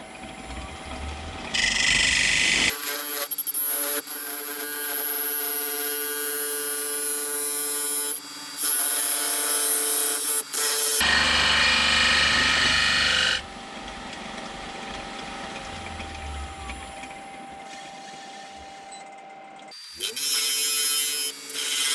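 A wood lathe spins a workpiece for a lamp while a scraper cuts it, giving loud, continuous broadband shaving and whirring in long passes, broken by short pauses and changes in pitch between cuts.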